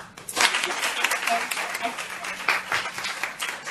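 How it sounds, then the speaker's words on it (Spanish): Audience applause for schoolchildren at a morning gathering, a dense, steady patter of clapping filling the whole moment at close range. "realmente un aplauso para los chicos"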